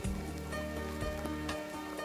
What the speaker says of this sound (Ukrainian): мені приємно зараз ходити під цим дощем